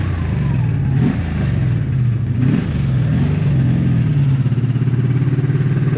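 A 1984 Honda V65 Magna VF1100C barn-find motorcycle idles and runs rough, its loud, close engine note wavering and surging unevenly with brief stumbles; no one talks.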